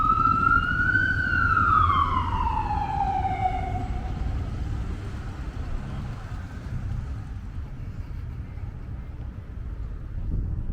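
An ambulance siren wails once, rising and then sweeping down, fairly loud over steady road rumble on a Bronx street, then fades away leaving traffic and wind noise.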